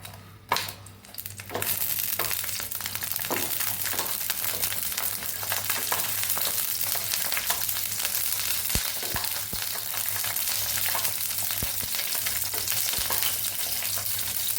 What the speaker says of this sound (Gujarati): લસણ અને સૂકા મરચાંને આપણે સાતળી લેવાના છે